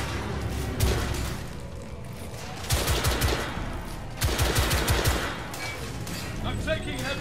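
Heavy automatic gunfire from a Victorian-era shooter game, bursts of rapid shots clustering around mid-clip and again later, loud and close, over a continuous din of battle noise with a voice speaking at times.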